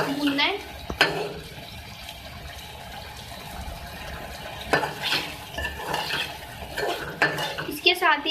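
Chopped green chilies stirred into beef in a pan, with a spoon scraping and clinking against the metal at intervals and a soft sizzle running underneath, close and moderately loud.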